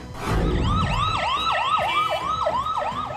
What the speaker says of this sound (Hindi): सायरन बजाती हुई एम्बुलेंस